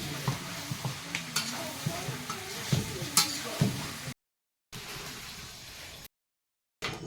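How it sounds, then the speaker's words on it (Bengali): Meat is sautéed in a pan over a continuous sizzle, with rhythmic scraping stirs every second or so, then brief drop-outs to silence near the end. "মাংসটা আমার প্রায় কষানো হয়ে গেছে"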